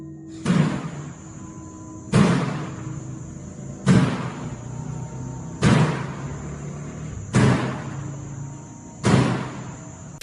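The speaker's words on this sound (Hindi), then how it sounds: "ये दरवाजा अपने आप ही खुल रहा है और बंद हो रहा है, और वो भी इतनी जोर से" A door swings open and slams shut by itself, six heavy bangs landing at a steady pace about every second and a half, each loud thud ringing briefly before the next.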